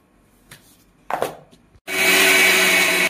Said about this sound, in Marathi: पहिल्यांदा आपण साखर बारीक करून घेणार आहोत. त्याच्यासाठी आपण मिक्सरच्या भांड्यात टाकून घेऊया.